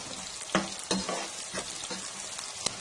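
Onions and curry leaves fry in a pan for a beetroot-leaf sabzi, giving a soft, steady sizzle. Intermittent scraping stirs run through it, with a few sharper knocks of the spoon against the pan. No voices are heard.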